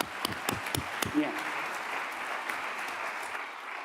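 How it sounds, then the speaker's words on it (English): Applause at a GEO Global Forum plenary session: a few sharp, separate claps quickly swell into steady, dense clapping from the audience at moderate volume. "The applause come a little bit late, but big enough"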